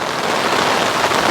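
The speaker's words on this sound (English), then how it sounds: "Absolutely hammering it down. It's been raining for a good half hour now." Heavy rain pours down during a storm at an overgrown Cotswold gravel pit, making a dense, continuous, loud hiss of drops hammering on nearby surfaces with no voices.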